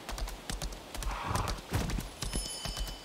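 Horse hooves clip-clopping in the video game Lost Ark, a quick steady rhythm of close, crisp hoof strikes over a faint ambient background, with a brief whinny-like sound mixed in.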